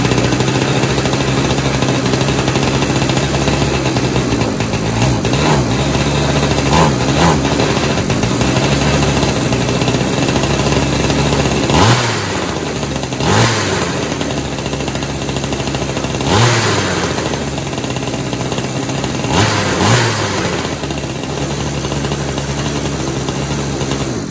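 A broken small gas string trimmer (weed wacker) under repair sputters to life and runs, a loud, rough two-stroke drone that surges into several sharp revs before settling back to a steady buzz.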